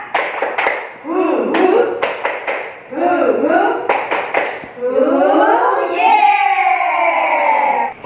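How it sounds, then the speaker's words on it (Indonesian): A group of teachers clapping hands together in rhythmic bursts during a training session, with voices chanting along between the claps, then turning to sustained, sing-song group vocalizing. "yuk kita tepuk tangan"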